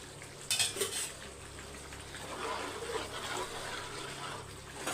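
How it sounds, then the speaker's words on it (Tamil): Cooked rice is stirred in a pot in a kitchen, with soft scraping and a couple of metal clinks from utensils against the pot, then a continuous quiet sizzle with no speech. "ரைஸு உடையாமல் மிக்ஸ் பண்ணிக்கோங்க"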